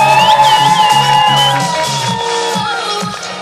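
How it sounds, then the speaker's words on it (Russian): An audience cheers and whoops for the leaders, a loud, dense crowd sound with shouts and raised voices that holds steady throughout. "Наши аплодисменты лидерам"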